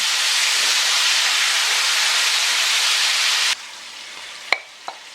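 Chicken hearts in marinade hiss and sizzle loudly in a hot pot over medium heat, a steady steamy roar that drops abruptly partway, followed by a couple of sharp utensil clinks.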